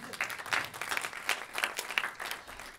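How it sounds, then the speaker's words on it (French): Audience applause at a round-table event, steady patter of many hands clapping close and fairly loud for about three seconds with no talk over it. "vous pouvez l'applaudir d'ailleurs"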